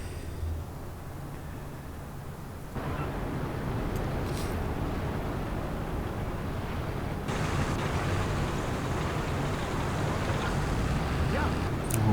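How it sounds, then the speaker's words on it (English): Tank engines rumble steadily in the WWII strategy game Gates of Hell, a loud continuous low roar that swells partway through, with scattered distant booms and a faint voice underneath. "Let's have some glorious engine noises and booms."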